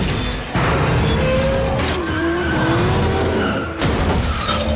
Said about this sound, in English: They're using the single turbo sounds.